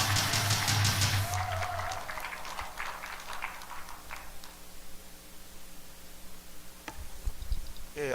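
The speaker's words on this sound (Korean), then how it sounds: "큰 박수로 맞아주시기 바랍니다" Applause from a gathering welcoming the president of the Gyeonggi Provincial Medical Association to the podium, loud and dense at first, then thinning to scattered claps over a steady background hum.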